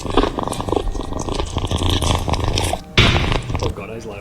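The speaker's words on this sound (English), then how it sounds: "Oh god, that was a kitty." Cat purring loudly right up against a microphone, a close, rough, pulsing rumble that rolls continuously with a short break before resuming even louder.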